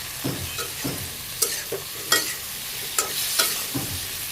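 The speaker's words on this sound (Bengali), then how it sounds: "সেই ডালগুলো কষিয়ে নিই ভালো করে" Lentils sautéed in a pan with salt, turmeric, chili powder and raw ginger paste. Rhythmic spatula scrapes and stirring strokes repeat over a soft sizzle, with no talking.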